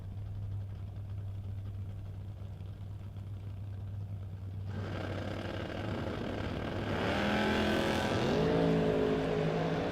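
Drag cars at a No Box 660 shootout: a low engine idles at first, then a broader, louder engine roar builds and revs up with rising harmonics, heard at a distance.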